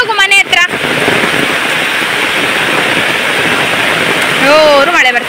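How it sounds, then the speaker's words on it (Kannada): Heavy rain pours down in a steady, loud, dense hiss that fills the whole stretch, with a voice speaking briefly at the start and again near the end. "ಜೋರು ಮಳೆ ಬರ್ತುಂಟು ನೋಡಿ. ಈಗ ಜೋರು ಮಳೆ ಬರಲಿಕ್ಕೆ ಸ್ಟಾರ್ಟ್ ಆದ."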